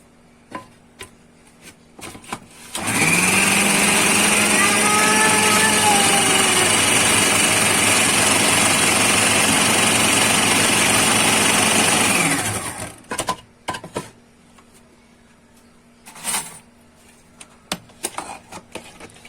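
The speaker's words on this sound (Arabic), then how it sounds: "هفضل بقى افرمهم لحد ما هخلص" An electric meat grinder minces meat for kofta, its motor running as one loud, steady whirring drone for about ten seconds before cutting off, followed by a few faint clicks and knocks.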